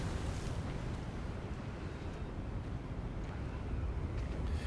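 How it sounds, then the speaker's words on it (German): Loud wind in the video game Hogwarts Legacy, a steady blustery roar with an ocean-like wash that holds at an even level with no let-up. "Der Wind ist ganz schön laut."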